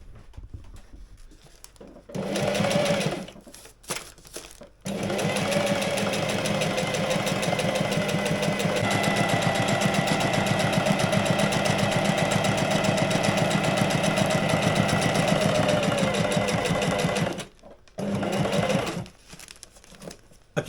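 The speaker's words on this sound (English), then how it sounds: "I do have a walking foot for this sewing machine" A sewing machine stitches a seam in slippery fabric for a sunshade, running in a steady whirring, rapid-ticking burst for about twelve seconds, with shorter runs before and after and brief pauses between; close, no talking.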